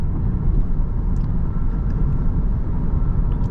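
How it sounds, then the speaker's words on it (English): Steady tire and road roar fills the cabin of a Lexus RX350h hybrid cruising on the highway, a constant low rumble with no engine sound and no talking. "you can of course hear a bit, just a bit of tire noise / road noise"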